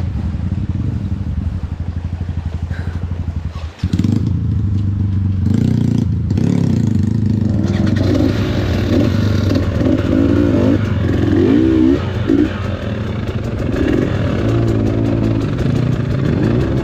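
A motorcycle engine runs loud and close throughout, idling with clattering mechanical noise and rising into revs, in a rough river-route riding setting.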